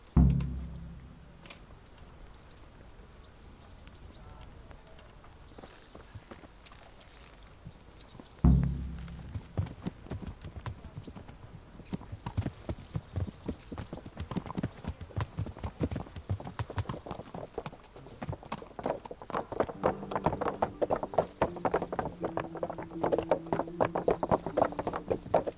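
Horse hooves clip-clopping at a steady walking rhythm while riding in a medieval-style video game, close and fairly loud, with occasional louder thumps and a busier, denser patter building toward the end.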